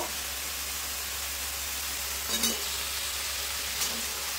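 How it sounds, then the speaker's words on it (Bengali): Cubed potatoes sizzle and fry steadily in spice paste in a pan while being stirred for a Bengali rohu fish curry with potato and pointed gourd, a loud continuous hiss with a couple of brief spoon scrapes. "আলুটা এবার মশলার সঙ্গে খুব ভালোভাবে কষাবো।"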